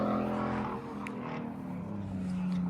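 A BMW at a car meet accelerates with a low engine drone and rising rev, heard a short way off over crowd noise.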